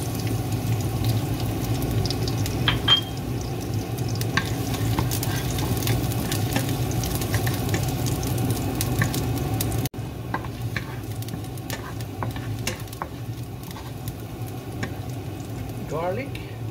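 Garlic sautéing in hot olive oil in a pan while making callos: a constant close, hissing sizzle with occasional light stirring taps, holding an even level throughout apart from a brief break partway.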